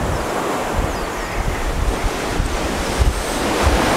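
Ocean surf washes onto a beach in Real, Quezon, Philippines, before sunrise, a loud continuous roar of waves mixed with heavy wind buffeting the microphone, no voices.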